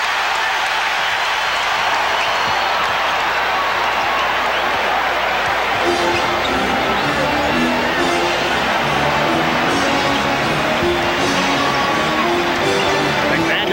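A packed arena crowd roars continuously at a 1992 playoff basketball game between the Bulls and Knicks, loud and steady with rising shouts, while a commentator talks over it.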